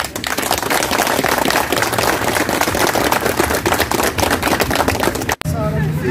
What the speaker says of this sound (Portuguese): eu quero dar uma salva de palmas